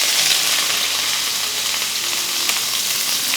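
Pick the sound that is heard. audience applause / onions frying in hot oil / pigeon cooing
onions frying in hot oil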